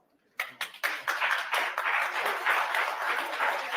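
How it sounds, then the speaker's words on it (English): A nonprofit class audience applauds itself: a few separate claps break out first, then swell quickly into steady, full applause that carries on evenly at close range. "give yourself a hand of applause"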